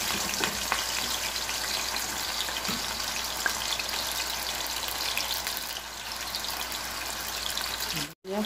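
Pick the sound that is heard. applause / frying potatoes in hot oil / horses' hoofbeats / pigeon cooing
frying potatoes in hot oil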